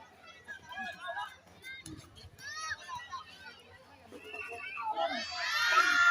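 Fans at a local league basketball game shout and yell, the crowd noise building to a loud burst of cheering near the end, under a commentator's running play-by-play.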